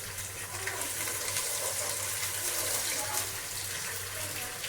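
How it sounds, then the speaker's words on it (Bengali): Mustard oil pours over a mixture of chanachur and lemon juice in a soft, continuous hiss that stays faint and even throughout, with no one speaking. "এই যে সরিষা তেল দিয়ে দিচ্ছি।"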